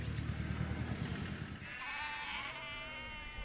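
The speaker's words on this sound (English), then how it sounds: "local sheep farmer Andrew Barr bring the ewes off the hill into the lambing barns" Ewes bleating on a South Downs hill in early March, a wavering bleat rising after a low rumbling start with a high chirp, fairly close over steady outdoor ambience.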